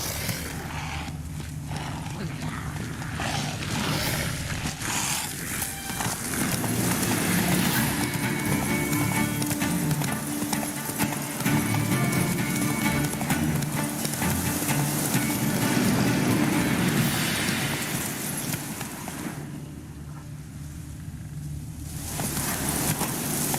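Roach the horse galloping in The Witcher 3, a steady rapid hoofbeat rhythm under a loud rushing mix of movement and ambience that carries on for over twenty seconds.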